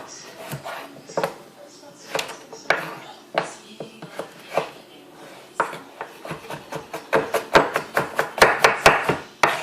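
A knife cuts an onion into pieces on a board, irregular sharp taps that speed into a rapid run of chopping near the end, with a person talking between cuts.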